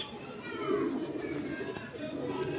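A Sialkoti pigeon coos in soft, low rolling calls close by, with faint children's voices and other chatter in the background.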